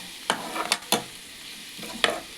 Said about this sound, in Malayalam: നൊത്തോലി ഒന്ന് ഇളക്കി കൊടുക്കാം.